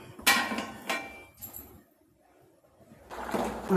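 A metal lid set down on a pot of simmering dried anchovy (nethili karuvadu) curry gives a couple of sharp clanks and clinks near the start, then quiet, then a final clatter at the end.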